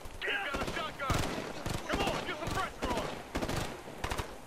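Rapid bursts of gunfire ring out in the co-op video game Ghost Recon: Future Soldier, with dense, loud repeated shots running through the whole stretch. Game voices and players' chatter mix in underneath.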